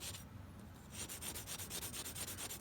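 A knife blade rubs back and forth on a 70 grit diamond sharpening stone, a quiet, close, rhythmic scraping with repeated strokes and no voices.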